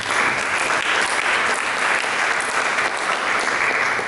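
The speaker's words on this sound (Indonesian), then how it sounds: "Berikan tepuk tangan." A church congregation applauds steadily and loudly through the whole moment, a dense continuous wash of clapping with no break and little else audible.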